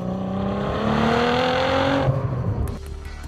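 A 1000 HP street edition Nissan GT-R drives past, its engine note rising in pitch as it accelerates loudly and close, then quickly dropping away toward quiet.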